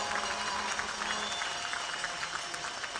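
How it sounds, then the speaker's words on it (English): Crowd applause fills an arena at the Fargo Force's Clark Cup championship ceremony in USHL hockey, a steady dense wash of clapping heard from a distance, with faint voices mixed in. "So give all of them a big round of applause."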